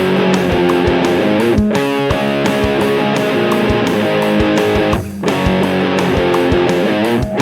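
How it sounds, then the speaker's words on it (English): Distorted electric guitar chords from a loud amp in a room, captured on a phone and played over steady rock drums. The dense, driving mix runs loud throughout, with a brief dip near the end. "you're recording the guitar, especially since you're going to have a loud amp in the room with you."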